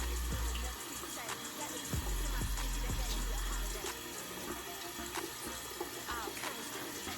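A tap runs in a sink while someone washes their face, a soft steady rush of water with splashes and small clatters, fairly faint and close.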